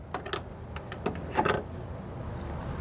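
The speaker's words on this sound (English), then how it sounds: "it does come with a couple of keys" A couple of keys for a Master Lock laminated steel padlock jangle in a few quick, light metallic bursts close by, with a brief louder shake in the middle and no talking.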